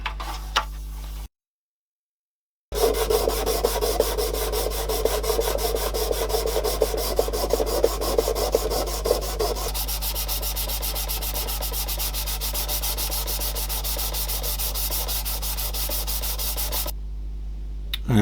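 Sandpaper rubbing on plastic parts of a Tamiya 1:350 Musashi model battleship, a close, continuous scratchy rasp with rhythmic back-and-forth strokes after a short silence.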